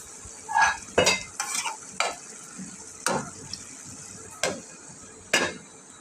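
A spoon stirs banana stem and rice in a sizzling pan, making a series of loud scraping, clanking strokes at irregular intervals over a steady frying hiss.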